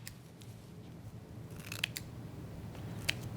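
Scissors trim Flashabou skirt material on a trolling lure, with a few crisp, close snips spaced irregularly over a low steady background hum.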